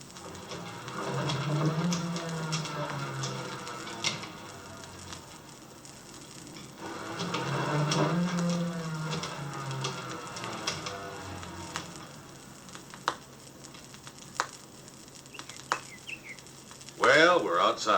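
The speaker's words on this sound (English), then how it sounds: "And now let's listen to the sound of the spinning wheel." A spinning wheel in a historic village workshop turns in quiet, rhythmic whirring cycles, fading in and out every few seconds, with faint chirps and clicks toward the end.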